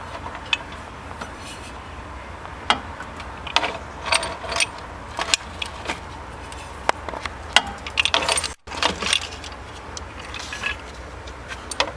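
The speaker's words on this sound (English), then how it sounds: "I just got a wheel wrench." A wheel wrench, extended with a pipe, works bolts loose on the starter of a 2000–2003 Dodge Caravan, giving irregular metallic ratcheting clicks and small clanks close by, with no talk.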